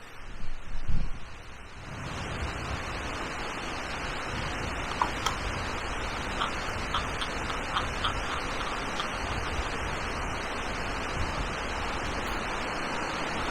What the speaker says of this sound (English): that's how windy it is. The camera's just blown over. It's proper blowing.